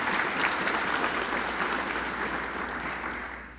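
Crowd at a city economic development luncheon address claps steadily, a warm, continuous round of applause that slowly tapers off toward the end.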